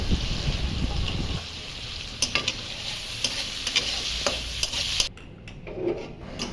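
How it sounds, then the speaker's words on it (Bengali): Shrimp fry in hot mustard oil in a kadai with salt, turmeric and red chilli powder. A close, steady sizzle carries repeated scraping stirs, then drops away sharply near the end. "কড়াইয়ে সর্ষের তেল দিয়ে গরম হলে প্রথমে চিংড়ি মাছগুলো নুন হলুদ রেড চিলি পাউডার দিয়ে হালকা করে ভেজে তুলে নেব"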